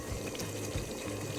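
Boiling hot water poured steadily into a pot of curry lamb with turmeric, a continuous close splashing, gurgling stream lasting the whole moment with no talk over it.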